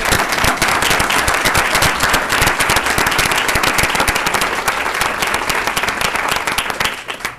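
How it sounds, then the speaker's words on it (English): Loud, steady applause from an audience at a county board of commissioners meeting after scouts are recognized, dense clapping that carries on for several seconds before tapering off at the end. "Let's give them a round of applause."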